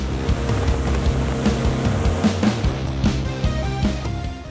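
A Huntercraft Jet Venturer 4200 jet boat with an outboard jet engine running steadily with a loud, droning hum and a throbbing low rumble, close by.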